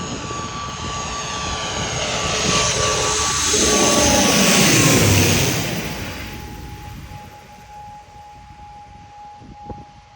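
An airplane flies overhead on approach to land at Agatti in Lakshadweep, its engine roar swelling loud over several seconds and then fading away, leaving a quieter background hum.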